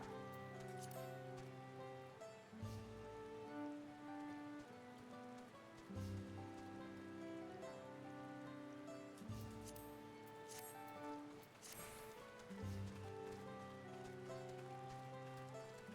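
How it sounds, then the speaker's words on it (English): Steady rain pattering on a surface in Final Fantasy XIV, layered over a soft repeating musical backdrop with gentle tonal chords. "Oh no, it's raining."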